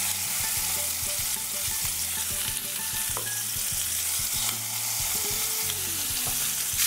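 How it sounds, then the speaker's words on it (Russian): Loud, constant sizzling of pork pieces frying in a hot pan, with crackling pops and occasional scraping of a utensil. "Выкладываю кусочки свинины на разогретую сковородку и обжариваю примерно по 2 минуты с каждой стороны"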